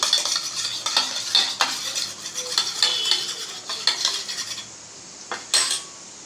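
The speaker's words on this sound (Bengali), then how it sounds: "tomato ketchup, red chilli sauce আর গ্রিন চিলি সস, তিনটে মিক্সড করে নিচ্ছি" A utensil scrapes and clinks against a dish while tomato ketchup, red chilli sauce and green chilli sauce are stirred together, in repeated close strokes that pause near the end.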